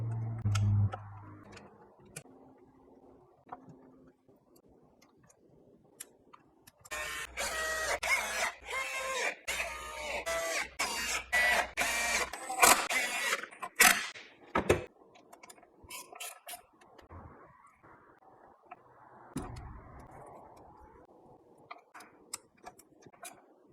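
A wrench clicks rapidly in bursts while crank pulley bolts are tightened on an Acura MDX during a lightweight performance pulley install. The sharp metallic ticking is close and moderately loud, with quieter workshop handling sounds before and after.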